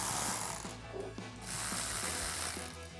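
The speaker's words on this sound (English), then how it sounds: "to tighten it down, we're going to use the same 1/4-inch socket and ratchet" A 1/4-inch socket and ratchet tightening hose clamps on a cold air intake of a Chevrolet Silverado 1500, heard as quick close clicking pawl bursts in short runs, quiet and alone without talk.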